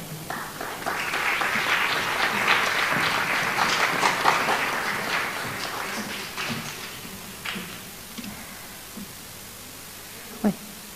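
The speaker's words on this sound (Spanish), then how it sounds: "Un fuerte aplauso." Audience applause in a theatre at a Christmas concert by inclusive orchestras, a strong round of clapping that swells and holds for several seconds, then thins to scattered claps and a final lone clap.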